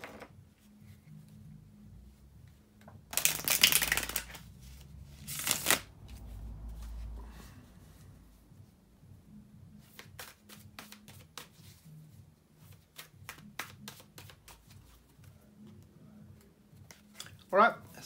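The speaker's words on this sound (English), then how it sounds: "to shuffle the tarot cards" Tarot cards shuffled by hand in a quiet room: two loud riffling bursts early on, then a long run of soft, rapid taps and slides as the deck is cut and handled.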